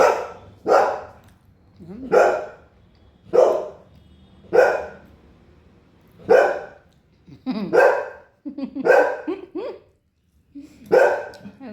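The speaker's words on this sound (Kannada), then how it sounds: "ಬೊಗಳ್ತಾರ." A dog barks in a steady series of about ten sharp, close barks, evenly spaced, with brief pauses between them.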